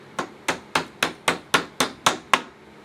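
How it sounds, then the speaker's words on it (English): Nine sharp hammer strikes on an IKEA desk part land in an even, quick rhythm, each a hard knock with a short ringing decay, close and loud. "You just have to bang this thing with a hammer."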